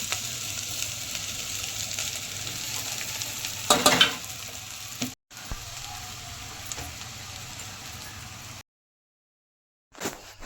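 Potatoes fry in oil for sabudana khichdi, a dense steady sizzle with stirring clatter, a louder burst near the middle, then brief dropouts and near-silence toward the end before the frying returns.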